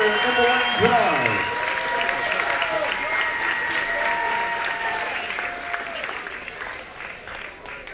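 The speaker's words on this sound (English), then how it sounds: "A big round of applause for both of these warriors here in the ring" A crowd at a boxing match applauds both fighters in the ring after a hard-fought bout, clapping steadily under an announcer's amplified voice and tapering off gradually.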